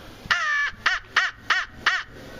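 A hand-blown crow call from Hook's Custom Calls imitates crows with five loud, harsh caws in a steady rhythm, close and alone.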